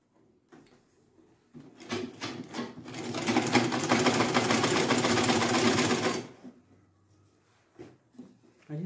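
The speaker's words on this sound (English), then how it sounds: "So you hold it down, start sewing." A sewing machine stitching fabric for an autogele runs in one close, steady whirring burst of about four seconds, with quieter handling clicks and rustles before and after.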